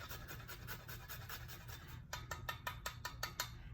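Whole nutmeg being scraped across a small hand grater in a kitchen, soft steady rasping strokes close by, turning into sharper rhythmic scrapes toward the end.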